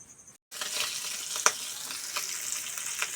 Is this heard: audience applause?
no